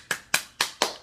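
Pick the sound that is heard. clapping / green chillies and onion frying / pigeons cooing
clapping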